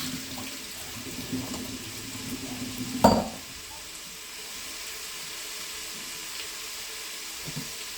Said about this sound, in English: I'm just going to rinse the potatoes.